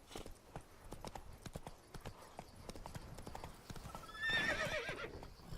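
Roach, a horse in the video game The Witcher 3: Blood and Wine, gallops with steady, rapid hoofbeats close by, then lets out a loud, shrill neigh near the end.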